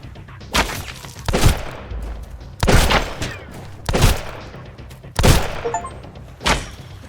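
Gunfire in the survival video game Sunkenland while shooting pirates: six separate sharp shots with booming thuds, spaced about a second apart, loud over quiet ambient game noise.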